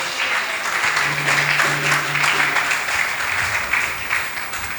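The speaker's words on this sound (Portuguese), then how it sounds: "Você pode aplaudir o nome do Senhor Jesus?" Congregation clapping together in a church service, a steady dense wash of applause held throughout at close range with a low sustained tone briefly underneath.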